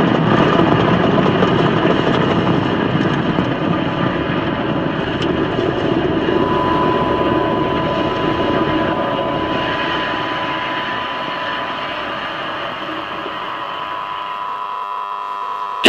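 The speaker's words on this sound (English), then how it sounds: "Falcon 9 has successfully lifted off from Space Launch Complex 40 at Cape Canaveral Space Force Station in Florida" A SpaceX Falcon 9 rocket lifts off from Space Launch Complex 40 at Cape Canaveral, Florida, its Merlin engines giving a loud, continuous broadband roar that holds steady, then slowly fades as the vehicle climbs away.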